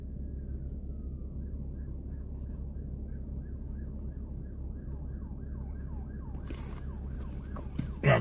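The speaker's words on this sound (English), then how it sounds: "I'm hearing sirens, so we're close to it." An emergency vehicle siren wails from a distance in Cheyenne, Wyoming, on a Friday night, the rising and falling sweeps repeating steadily over low engine rumble inside a moving car, growing louder and closer toward the end.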